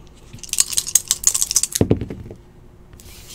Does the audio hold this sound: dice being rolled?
yes